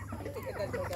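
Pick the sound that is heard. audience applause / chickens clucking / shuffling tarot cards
chickens clucking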